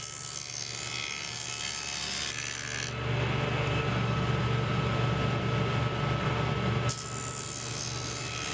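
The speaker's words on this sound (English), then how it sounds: "I've put a dado blade in the table saw to cut the tenons." A table saw fitted with a dado blade cuts tenons in reclaimed lumber, a steady, loud grinding rasp of wood being removed that swells midway through the cut, then eases back toward the end, with no talking.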